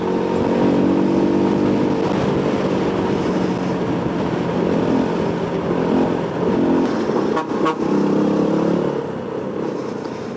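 Busy road traffic with buses and trucks around a motorcyclist after a shift, a continuous loud engine rumble and road roar close by, with passing vehicles and a brief horn-like note.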